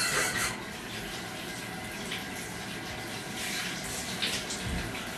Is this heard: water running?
yes